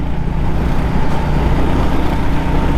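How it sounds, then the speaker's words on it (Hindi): A small motorcycle engine roars loud and steady at full acceleration, a dense continuous drone with road and wind noise and no talking. "अभी फुल एक्सेलरेशन है."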